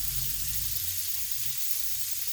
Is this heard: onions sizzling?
yes